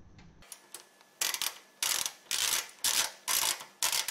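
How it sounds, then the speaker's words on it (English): Screws being snugged up by hand, a run of loud ratcheting bursts roughly every half second, each a short clicking rasp with brief gaps between, close and with no talk. "So we're just going to snug the screws up"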